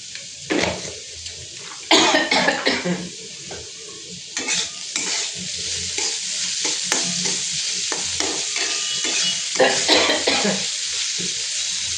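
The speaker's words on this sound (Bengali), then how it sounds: "কাশি উঠছে" A woman coughs repeatedly while cooking oats khichdi, sharp bursts over the steady sizzle and stirring of food in a pan, near and loud.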